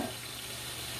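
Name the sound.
hamburgers sizzling in a cast iron skillet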